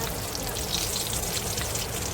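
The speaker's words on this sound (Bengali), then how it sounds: "এখানে লোটো মাছটা ভাজা হয়ে গেছে" Whole loitta (Bombay duck) fish frying in a pan of hot oil, giving a steady, dense sizzle that stays even and fairly loud throughout, with no voice over it.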